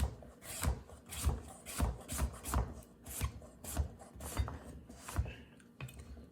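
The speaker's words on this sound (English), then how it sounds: "now I'm gonna cut it. You cut it however you like at this point, but I'm gonna go with little rings" A knife cuts a squash into little rings on a wooden board for roasted maple spiced squash, with steady repeated chopping thuds and rasps at an even rhythm, close and moderately loud, with no talking.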